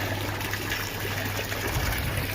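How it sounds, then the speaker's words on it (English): Water running steadily during a water change on a garden koi pond, a continuous close trickle and splash with no pauses and no talking. "Clean the diypond, and I'm just doing a bit of a water change."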